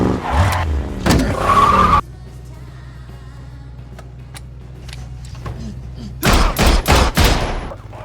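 Loud bursts of gunfire from a film gang shootout in a rapid cluster at the start and again near the end, separated by a quieter stretch of low rumble.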